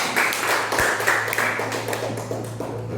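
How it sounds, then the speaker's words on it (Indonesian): Scattered clapping from a classroom of pupils applauding a presentation group, a few quick claps rising then thinning out over a low steady hum. "tepuk tangan untuk kelompok kita"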